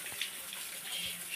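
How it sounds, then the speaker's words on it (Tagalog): Water falls steadily like a shower inside a cave, a soft continuous hiss and patter with no break. "Oh, there's a shower here."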